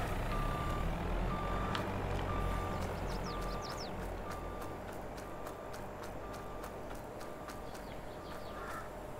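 A truck in Farming Simulator 22 sounds a regular series of sharp reversing beeps over a low idling engine rumble, steady and fairly close, with no talk.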